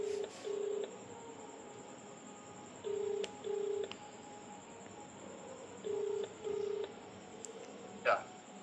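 A telephone call is placed and the line rings back: three evenly spaced pairs of short, faint electronic beeps over a quiet hum, with a brief knock near the end.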